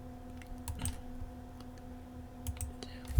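Several light, sharp computer mouse clicks scattered through a quiet room during AutoCAD drafting, close and brief, with a faint steady hum underneath.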